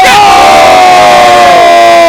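A packed live crowd at a Gears of War 4 5v5 esports tournament in Mexico City erupts in a loud, sustained roar of cheering and yelling, very close and overwhelming for the whole moment.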